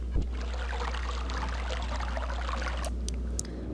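Flowing water in the Myst video game, a steady trickling, pouring wash that runs evenly throughout at moderate level with no talk over it.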